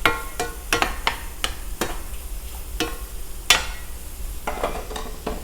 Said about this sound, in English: Gonna stir that around. Let those radishes cook down.